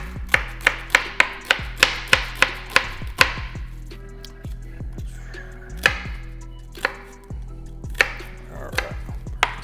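A knife chops onions on a cutting board in a quick, steady run of sharp taps, then slows to scattered single cuts, close and clear over a low background hum.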